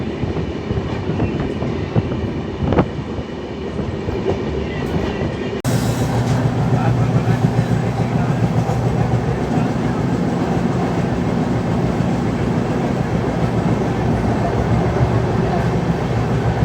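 Konark Express passenger train (11020) running on rails between Visakhapatnam and Anakapalli, a steady rolling rumble with clickety-clack wheel noise that grows louder and fuller partway through, as if a door or window opened, continuing without talk.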